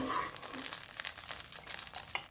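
Curly chilies, shallots and bird's eye chilies sauté in a little oil in a pan, giving a soft steady sizzle with light stirring scrapes.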